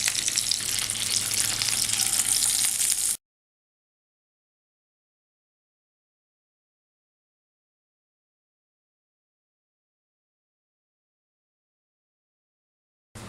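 Chicken pieces frying in a pan for butter chicken make a dense, steady sizzle for about three seconds, then stop abruptly into silence.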